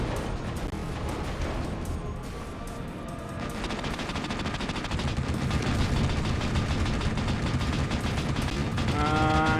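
Rapid gunfire in The Red Star video game, with dense, continuous bursts of shots that stay loud and steady throughout, with no talking.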